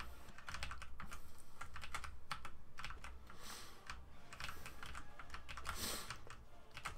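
Computer keyboard keys clatter as a game is played, with steady irregular tapping and bursts of clicks at close range and no talk.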